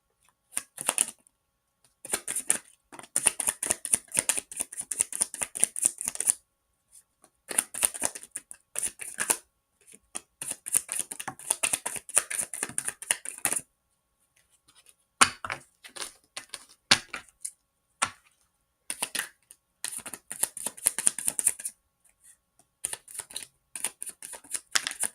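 Cards are shuffled for a card reading in repeated bursts of rapid riffling and snapping, close and crisp, broken by brief pauses, with no talking.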